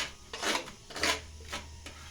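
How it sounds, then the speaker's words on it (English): Sweet potato rubbed against a metal grater brought from Jamaica, heard as several short rasping strokes close by, each a bright scraping burst with brief pauses between them. "You grated the potato"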